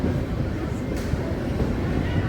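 Delhi to Amritsar Intercity Express 14679 on Northern Railway, leaving the station after a long delay: a steady, loud low rumble of rolling train wheels and carriages that holds through the whole stretch.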